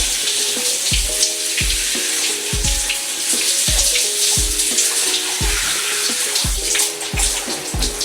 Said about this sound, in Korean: 이 미끈거림이 없을 때까지 뽀드득 소리 날 때까지 헹궈요